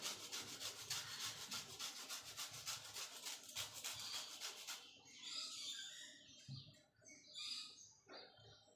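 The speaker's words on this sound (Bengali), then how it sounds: "গন্ধরাজ লেবুর মানে সবুজ অংশটা দিয়ে দেব ঘষে" Gondhoraj lemon zest is grated in quick rhythmic scraping strokes for about five seconds, close and quiet, then gives way to scattered light taps and faint chirps.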